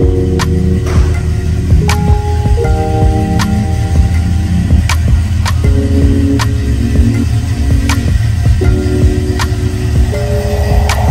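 A 1972 Impala convertible on staggered 24-inch gold Daytons pulls out with a low, steady engine rumble, while sharp ticks and a shifting, music-like tone sound over it.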